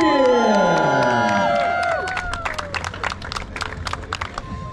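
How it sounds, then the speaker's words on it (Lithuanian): Crowd applause and cheering greet the top overall finishers of a 24-hour electric vehicle endurance race in Panevėžys, Lithuania, with whistles and a swelling horn-like tone at first, then steady dense clapping and shouts. "gausūs aplodismentai trims greičiausiams absoliučios įskaitos ekipoms"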